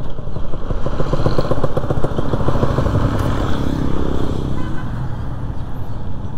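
A Raider 150 motorcycle riding along with its muffler tied on after the bolt snapped, the engine droning steadily and loudly up close with a rattly, rapid pulsing throughout.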